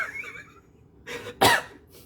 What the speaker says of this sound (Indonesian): Aduh, batuk gua.